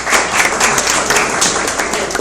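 A live audience applauds a volunteer returning to their seat after a magic trick, a brief, dense burst of clapping, loud and close, with no voices.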